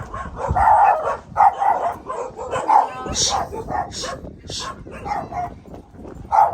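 Several dogs bark and yip repeatedly at close range near a port in the Visayas, Philippines, overlapping in uneven bursts with background noise.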